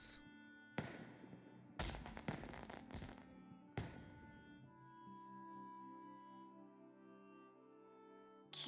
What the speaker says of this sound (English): Wow, there's even a fireworks show?